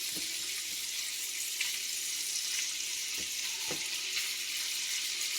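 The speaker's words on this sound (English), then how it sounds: "So I just put this in the pan, and that's it. Got it on medium high." Tough meat searing in a pan on medium-high heat, a soft, steady sizzle with a few faint pops and clinks, fairly quiet and continuous.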